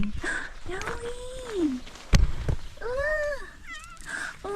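A cat meows several times nearby, drawn-out rising and falling cries, with a brief thump and some light movement between them.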